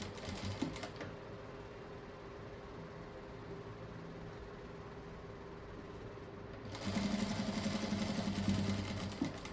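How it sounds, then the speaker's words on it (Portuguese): A sewing machine stitches folded fabric with a soft, steady mechanical whir close by, growing louder and busier near the end as the stitching speeds up. "aí vou costurando, daí. Dobrando e costurando."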